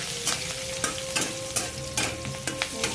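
Garlic and green chillies frying in hot tempering oil for a Marathi bhendi bhaji, a dense crackling sizzle broken by regular clacks of a spoon stirring the pan, close and without speech.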